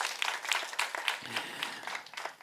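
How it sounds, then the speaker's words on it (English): Audience at a primary schools debate competition in Uganda claps for the adjudicators, a brief, soft, steady patter of many hands at moderate distance. "Clap your hand for them."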